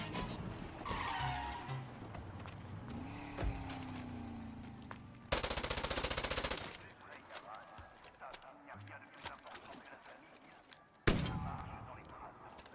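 Gunfire from a weapon in the video game Far Cry 6 comes as two loud dense bursts, one lasting about a second and a half and a shorter one later, over busy game sounds and other effects.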